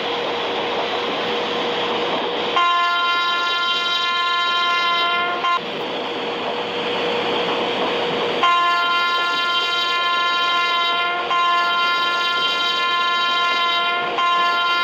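A WAP7 electric locomotive at full throttle on the Mumbai to Vadodara run gives a steady, loud drone with tonal whine, interrupted by a few brief breaks and shifts in pitch.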